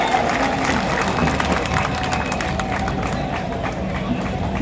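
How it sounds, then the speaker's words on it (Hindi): A crowd at a certificate and prize ceremony in Chhindwara claps in dense, continuous applause, loud and close for several seconds, with a faint voice underneath. "कृपया आप सभी के लिए जोरदार तालियां बजा दीजिए।"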